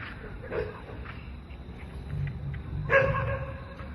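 A dog barking outdoors in a forest area, a few short yips and barks at a moderate distance, with some background rumble and faint voices.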